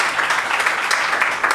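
Applause from an audience at an open mic event in Jabalpur, a brief burst of dense, even clapping heard up close with no talk.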